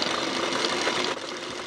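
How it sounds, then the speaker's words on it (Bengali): Short burst of a sewing machine stitching a waistband strip on a blouse, a steady close mechanical whir that drops slightly in level near the end. "এখন এখান থেকে বসিয়ে এই পর্যন্ত সেলাইটি নিয়ে আসব।"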